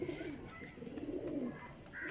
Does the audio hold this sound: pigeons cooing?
yes